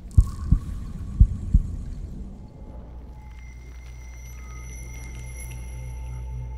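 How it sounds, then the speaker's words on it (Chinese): Heavy metal shackles clank in a fantasy pet-collecting game, four low chain-like thuds in the first two seconds, then a steady low hum with faint high tones. "有镣铐的声音。"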